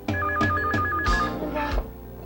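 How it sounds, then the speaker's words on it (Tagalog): A telephone rings in a domestic setting, a series of quick, bright bell bursts repeating in a steady rhythm, loud and near, with no talking over it. "Solomon, buti pa sagutin mo yung telepono"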